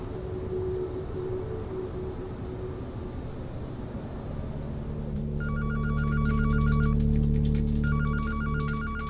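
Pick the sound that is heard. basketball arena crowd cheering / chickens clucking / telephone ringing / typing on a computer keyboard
telephone ringing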